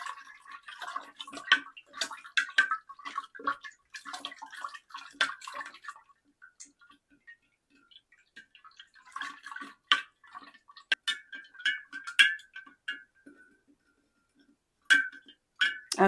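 Apricot wine must with gritty undissolved crystals is stirred in a fermenter, giving faint sloshing, trickling and small clinks in irregular bursts with quiet gaps, close by and without talk.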